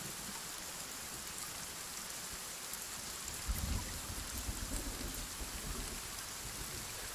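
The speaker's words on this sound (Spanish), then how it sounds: "flipo que el sonido de la lluvia sea tan realista" Steady rain from the video game Sons of the Forest hisses evenly throughout, with a dull low rumble of thunder swelling briefly near the middle, and no voices over it.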